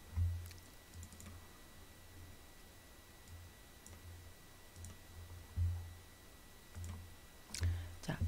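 Keys tapped on a computer keyboard while working in Illustrator CC2019, in faint sparse clusters of soft clicks with short pauses, fairly close and quiet, with no voices.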